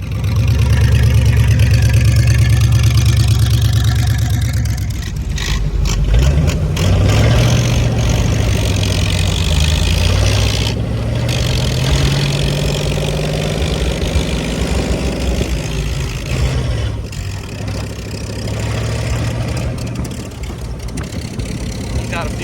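A 1940 Ford pickup engine idles at a car show, a steady loud low rumble that holds throughout with crowd noise and occasional voices around it.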